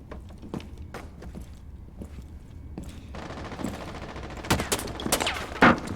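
Gunfire in a first-person shooter game: a few sharp, loud shots scattered across the moment, with a denser burst near the end over steady game background noise.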